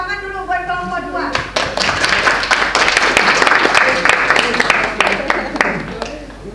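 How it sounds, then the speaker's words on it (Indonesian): Classroom applause for a student presentation group, starting after a brief voice and building into dense, sustained clapping from many students, fairly close and loud throughout. "Tepuk tangan dulu buat kelompok 2"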